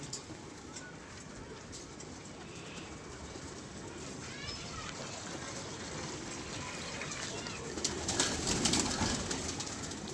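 Pigeons coo softly and repeatedly in a rooftop loft, with low, rolling calls against a steady background hiss and someone speaking nearby.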